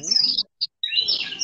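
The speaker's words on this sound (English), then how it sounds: "Love your birds." Birds chirp and tweet in bright high-pitched bursts, with a short gap and a brief lone chirp in the middle before dense twittering resumes, fairly close and loud.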